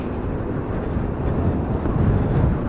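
Heavy wind buffets a microphone on a riding 1500W 60V Lexmoto Impulse electric moped, a steady low roaring rumble with gusty surges and no voices.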